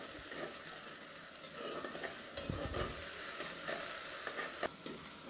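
Onions are sautéed and stirred for an ivy gourd curry, a quiet continuous sizzle with soft scraping stirs and occasional utensil taps, nearby but faint, with no talking.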